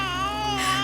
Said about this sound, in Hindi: अरे मेरा बच्चा रो रहा है मेरा बच्चा।